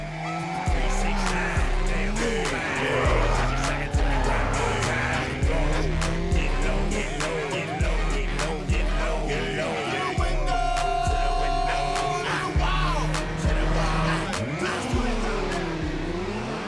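Race cars drift in a racing video game: constant engine roar with revving and repeated tire squeals and skids, loud and close throughout.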